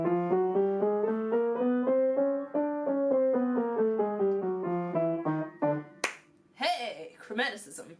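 A run of sustained tonal notes moving step by step in a chromatic sequence, each note clearly separated in a steady rhythm, followed by a brief burst of sharper, noisier sounds at the end.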